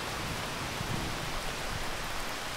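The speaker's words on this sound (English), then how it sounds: "look at the rain. Just picked up." Rain falls steadily on a small Appalachian mountain stream in summer, a dense broadband hiss that sounds close and fairly loud, with no voices.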